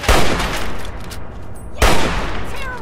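Two loud, close assault rifle bursts from Fallout 3 roar out with heavy booming tails, one at the start and another just under two seconds later.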